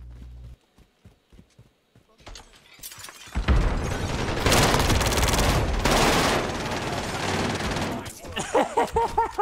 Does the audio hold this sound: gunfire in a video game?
yes